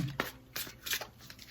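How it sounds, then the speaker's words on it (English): Tarot deck being shuffled by hand, close and fairly quiet, with several soft riffling bursts and card flicks spread across the moment, no voices. "Spirit says keep shuffling."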